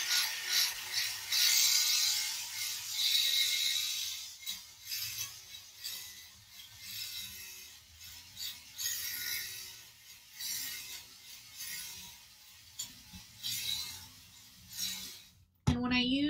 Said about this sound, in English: So I'll use the pill remover